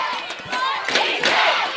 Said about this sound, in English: The crowd is so into it right now.